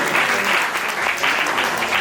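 Loud, dense audience applause at a ceremonial gathering, many hands clapping steadily throughout the short stretch.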